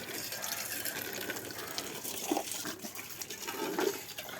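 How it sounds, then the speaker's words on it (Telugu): Tap water runs steadily into a container in a home kitchen being cleaned out after rain damage, a soft continuous gushing fill with occasional brief clinks of vessels. "నీళ్ళు పట్టండి"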